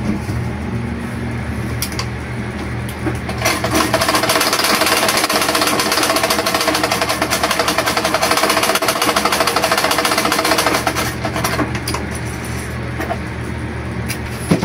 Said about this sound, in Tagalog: Subukan natin itahi.